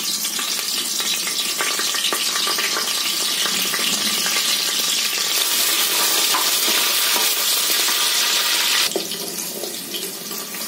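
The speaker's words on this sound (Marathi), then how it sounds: "आता मी ना कांदा तेल घालते।" Onion fries in hot oil for masoor pulao with a loud, dense, continuous sizzle and hiss that eases slightly near the end; no voices.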